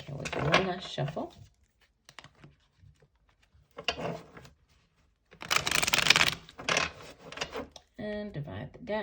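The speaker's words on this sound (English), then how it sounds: "Okay, we'll do one last shuffle." Tarot cards are shuffled in quick papery riffles and flutters, coming in a few separate bursts between stretches of a person talking.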